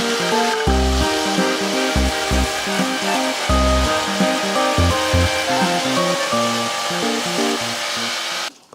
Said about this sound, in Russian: Теперь возьмем электрический лобзик, установим скорость пропиливания на максимум и начнем пилить контур этого